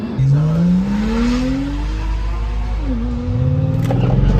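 Tuned BMW M550i accelerating hard, its engine note climbing loud and close through a gear change before pulling again, with tire noise and an excited voice shouting over it.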